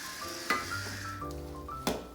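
A melted mixture of salt-seasoned ingredients is stirred in a pan, with faint sizzling under scraping strokes of a utensil and two sharp clinks against the pan, quiet and close with no voices.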